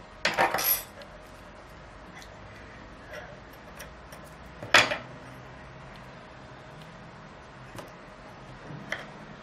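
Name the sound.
scissors cutting blue yarn in crochet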